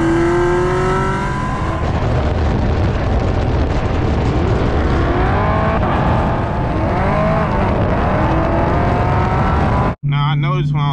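A Dodge Challenger Hellcat Redeye rumbles loudly from inside the cabin while driving onto a highway, its engine note rising through revs in pulls before cutting off abruptly near the end.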